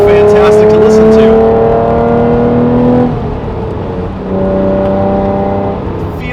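An Acura NSX sports car engine revving hard, its rising harmonic whine loud and close, then easing off briefly before climbing again.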